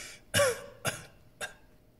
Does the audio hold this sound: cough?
yes